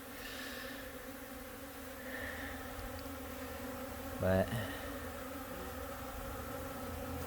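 Honeybees fly in and out of a hive on a winter day outdoors, a faint continuous buzzing drone with a brief louder thump and a single spoken word partway through.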